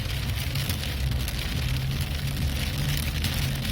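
Rain during a storm drums steadily on a car stuck in traffic, a dense, even patter heard from inside over a low rumble, with no voices.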